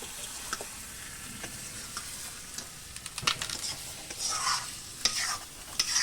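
Mutton and spices sizzling in a pot over a wood fire, a soft continuous frying hiss broken by scraping stirs and occasional sharper clicks from the spoon, fairly quiet and close.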